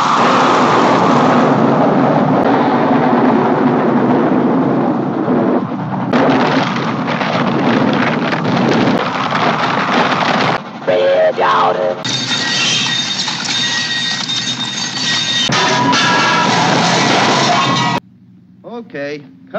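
A thunderstorm effect played on a film soundstage: loud, sustained rumbling and crashing broadband noise fills most of the stretch, with shifting bursts and textures, then drops off sharply near the end.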